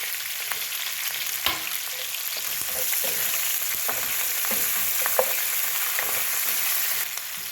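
Green chillies frying in a pan for hotel-style vermicelli upma, a steady loud sizzle with occasional scrapes and taps of a stirring spoon, close and without talk.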